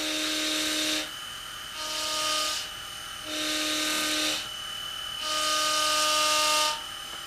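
A homemade spinning siren disc with two rings of eight holes, one near the center and one near the edge, gives four steady tonal wails separated by short gaps, alternating between two slightly different pitches.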